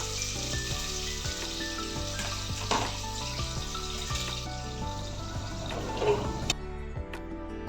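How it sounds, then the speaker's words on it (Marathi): Chopped onion frying in oil inside a pressure cooker for a prawn rice dish, a steady close sizzle with scattered ticks and clinks of a spoon, running alone without speech. "आधी आपण कांदा तळून घेऊया. कांदा परतून घ्यायचा."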